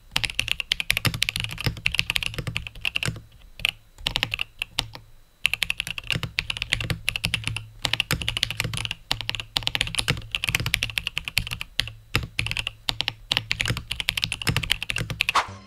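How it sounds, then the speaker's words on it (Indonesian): Rapid, clicky typing on a mechanical keyboard with Cherry MX switches, close and crisp, with irregular bursts and short pauses. "Ya bunyinya tuh udah khas banget lah kalau ini tuh keyboardnya Cherry MX gitu"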